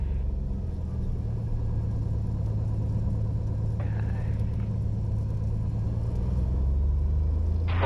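Light aircraft engine at full power on a runway at the start of the takeoff roll, a loud, steady low droning rumble heard from inside the cabin, with faint intercom tones and brief crackles over it.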